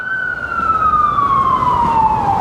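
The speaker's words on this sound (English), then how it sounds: "But you can still hear the sirens of New York City." A single wailing city siren in the Bronx, New York City, sweeps slowly downward in pitch, steady and fairly loud over a bed of traffic rumble.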